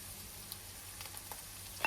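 Faint, steady sizzling and crackling of onions frying in a pan, with a few soft pops and a small clink near the end.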